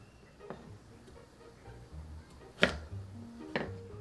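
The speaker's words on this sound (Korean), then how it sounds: "적당한 두께로 잘라줍니다." A knife chopping food on a cutting board for a ham and vegetable stir-fry, a few sparse, soft knocks spread out, close but fairly quiet.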